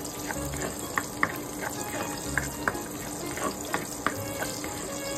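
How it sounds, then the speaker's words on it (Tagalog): Pechay sautés in a pan with a steady sizzle and hiss, punctuated by soft scraping clicks of stirring at an irregular rhythm, close and moderately loud. "Ginisang Pechay"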